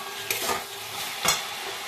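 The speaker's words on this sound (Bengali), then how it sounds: "এবার সবজিটা একটু 5 থেকে 7 মিনিটের মতো ভাজা ভাজা করে নেব" Vegetables fry in a pan while being stirred, a steady broadband sizzle with two sharper scraping stirs, close and moderately loud, with no talking.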